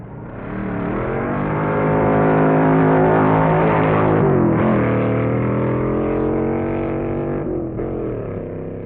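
Two vintage drag racing cars, a big Pontiac Stalker and a 409 Chevy, launch off the line at a 1961 strip. Their engines make one loud, sustained roar that swells and then holds at full power.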